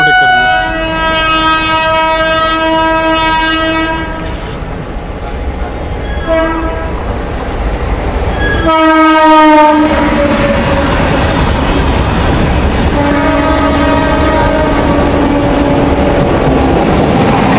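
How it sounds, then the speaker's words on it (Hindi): A passenger train rumbles past at close range with repeated loud horn blasts, as the Punjab Mail overtakes a special train on Indian railways; a brief voice is heard under the noise. "पंजाब मेन अपने को ओवरटेक करने आ रही है यहाँ पे"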